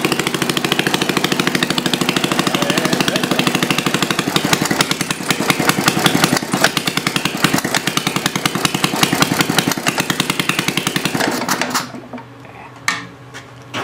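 A homemade water-cooled Briggs engine, about 65 years old, runs steadily with a loud, rapid, slightly galloping putter that carries on for most of the clip before cutting out, followed by a few faint knocks.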